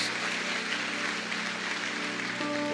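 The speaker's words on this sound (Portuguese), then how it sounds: "Dê um aplauso ao Senhor pela sua palavra" A church congregation applauds during a sermon, a dense continuous patter of many hands with a faint sustained hum beneath, holding steady from start to finish.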